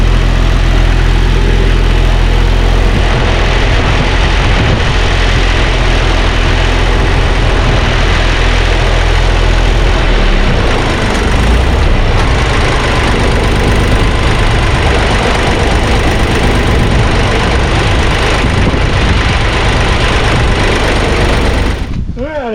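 A little Ford 1710 tractor engine idles steadily after fuel system work, a continuous loud close-up running with a rough, knocking mechanical texture throughout, no talking over it.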